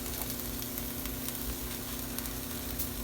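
Onion and green peppers sizzling in a pan for sweet potato hash, a dense steady crackle of frying close up, with faint intermittent pops and no talking.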